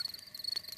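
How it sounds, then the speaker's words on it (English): A faint high, thin cricket trill pulses steadily in a quiet outdoor setting, heard alone, in a Peppa Pig cartoon episode. "That is the sound of crickets chirping."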